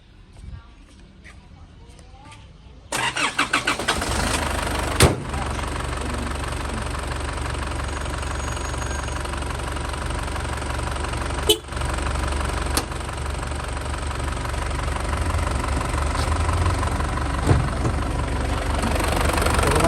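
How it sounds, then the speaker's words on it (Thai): An automatic 4x4 vehicle's engine cranks and fires after a short quiet lead-in, then settles into a loud, steady idle with a knocking rattle and occasional clicks, and someone talks over it. "สตาร์ทเครื่องเลยนะครับ"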